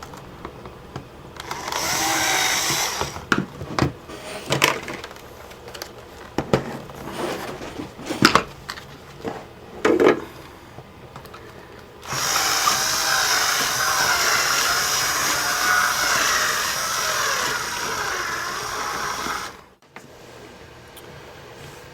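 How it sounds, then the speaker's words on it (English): A power drill enlarging a hole in a Vaio laptop casing during a power jack repair: several short, sharp whirring bursts, then a longer sustained grinding whine that cuts off abruptly, close up. "I'm just going to bring the drill in like a circular motion just to make the hole a little bit bigger."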